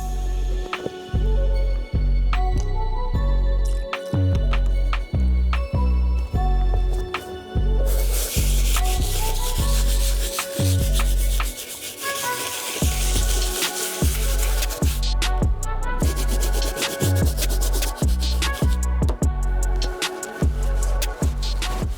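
Leather Jordan 7 sneakers being scrubbed with a medium bristle brush and cleaning solution, close and loud repeated rubbing strokes in a steady rhythm, with a brighter, hissier stretch midway.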